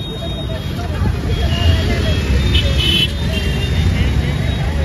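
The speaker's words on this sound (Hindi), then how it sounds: "अब लगेगा जाम यहाँ पे बढ़िया वाला।" Dense roadside traffic in India rumbles continuously with engines, a short horn toot and crowd babble mixed in, loud and close as a jam builds behind a passing convoy of officials.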